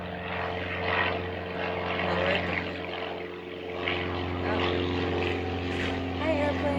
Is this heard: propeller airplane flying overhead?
yes